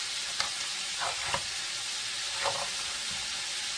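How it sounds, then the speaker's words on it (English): A wooden spoon stirs a heavy cabbage roll mixture in a cast iron pan, a steady broad sizzle with a few soft scraping strokes coming through close by. "Now I'm going to try and mix this up. Let's see if I can't break my wooden spoon."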